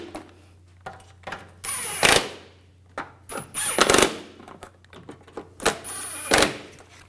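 A power tool tightens driveshaft coupler bolts on a 2007-2013 BMW X5, coming in several short loud bursts of a few seconds each with quieter shop noise in between.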